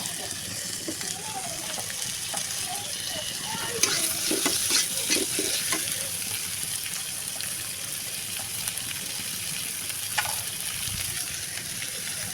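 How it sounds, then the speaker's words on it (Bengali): Onions sizzle in hot oil in a pan for a Bengali duck curry. A steady frying hiss runs throughout, with stirring scrapes and clinks near the middle, close and moderately loud. "এখন আমি পেঁয়াজ দিয়ে দিব"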